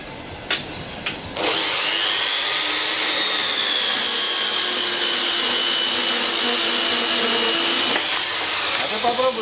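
A Pulsar band saw cuts through a shock absorber rod with a loud, sustained metallic whine that holds steady for about six seconds after a couple of short starts, then winds down.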